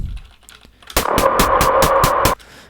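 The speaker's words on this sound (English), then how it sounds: "going to start off by typing in a few of the MIDI notes" Typing on a computer keyboard to enter MIDI notes in music production software: a quick run of about seven sharp, evenly spaced key clicks, close and loud, with no talk.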